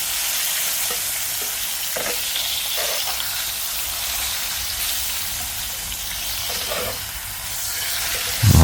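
Pieces of beef eye of round browning in a hot pan give a loud, steady, close sizzle with a few faint clinks along the way, ending in a sudden low thump.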